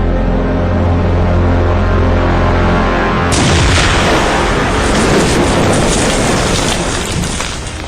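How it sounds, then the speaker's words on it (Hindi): 82 mm mortar shells fired near the India–Pakistan border during a Pakistani shelling attack, heard from indoors as a sudden loud broadband blast at about three seconds that rolls into a long, rumbling, crackling decay. "82 mm मोटार के शेल जो है वो पाकिस्तान फायर कर रहा है।"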